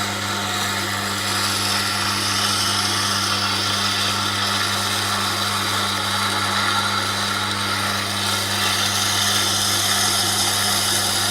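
A carving gouge being wet-ground on a hard Tormek Blackstone wheel, a steady motor hum with a constant low drone and a faint gritty hiss of steel against stone, even and unbroken, no talking.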